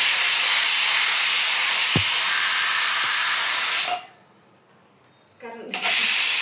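A pressure cooker of khichdi vents steam in a loud, steady hiss that cuts out abruptly into near silence, then bursts back on strongly.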